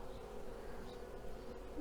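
A steady, faint hum of honey bees buzzing at the hive fills the air, continuous and unbroken throughout.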